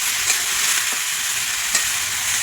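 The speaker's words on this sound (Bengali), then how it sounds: "করলা আছে, করলা ভাজবো" Bitter gourd (karela) sizzles in hot oil in a pan, a constant crackling hiss with a few sharp pops and light stirring taps close by.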